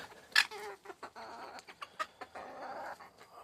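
Chickens, hens among them, cluck in short irregular bursts, fairly faint and nearby, with one sharper squawk near the start and scattered soft clucks after it.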